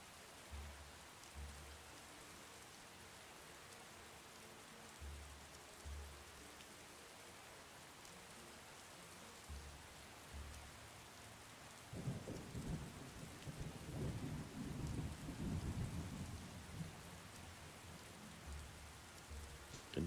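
Rain falling in the Skyrim video game, a soft steady patter with low rumbles of thunder, swelling louder midway and heard alone without talk.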